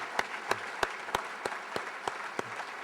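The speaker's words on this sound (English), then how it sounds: "If we could please have another round of applause for all of the speakers." Sparse, evenly paced claps ring out faintly from the audience at a Wilmington awards-style event honoring intriguing people of 2016, spaced about three to a second with no talking over them.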